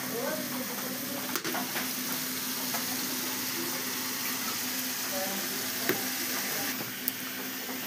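Broiler chicken meat with masala spice mix is steadily sizzling and frying in a pan while being stirred, with a constant close hiss and occasional faint clinks of the spoon.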